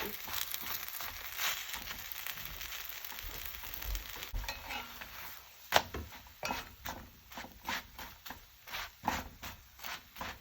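Scallion pancake crisping in a hot pan, with a steady close sizzle and crackle that thins out midway, followed by a series of rhythmic scraping and rustling strokes like a spatula working the flaky layers.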